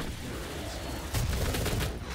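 Gunfire in a Doom multiplayer match, heard as a dense wash of shots that grows louder and heavier about halfway through, continuous rapid bursts with no voices.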